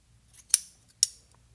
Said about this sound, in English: So we want to clip the corner at 45 degrees. We can cut away our excess seam allowance.